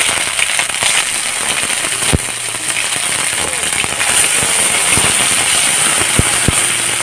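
Chili and cumin paste sizzles in a hot pan with a dense, continuous crackling hiss and occasional sharp pops. A voice talks over the frying.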